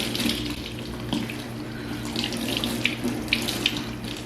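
Running tap water pours into a sink, a steady splashing rush with faint squelching as a makeup brush is rinsed under the stream.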